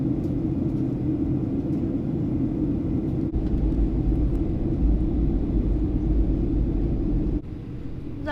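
Inside the economy cabin of a Boeing 737-800 on approach to Adelaide, a constant deep engine rumble and airflow roar fills the space, steady and loud, with a brief shift in tone near the end.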